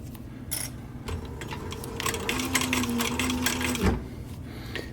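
A sewing machine runs in short, uneven bursts while stitching a military patrol cap, with clattering mechanical whirs, stops and restarts, and a few brief clicks close by.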